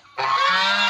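A farm goose gives one loud, sustained nasal honk close by, starting abruptly after a brief quiet moment and holding steady to the end.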